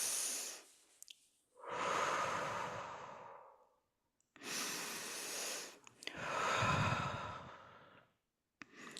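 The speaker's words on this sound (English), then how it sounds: "Another deep breath." Slow, deep meditation breathing: long airy inhales and exhales of several seconds each, about four in a row with short silent gaps, close and fairly soft, with no talking.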